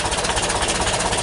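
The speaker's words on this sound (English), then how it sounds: "Idles straight away, but idles a little bit low." A 1977 VW T2 camper bus with its original 2-liter twin-carb 60-horsepower engine idling cold and a little low, a loud, steady, rhythmic chugging close to the engine, with no talk over it.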